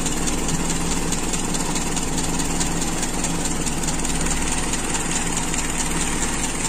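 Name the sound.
Toyota Kijang Super carburetor engine idling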